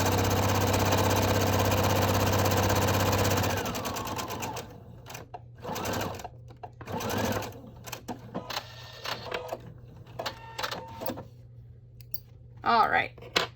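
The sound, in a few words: sewing machine sewing face mask insert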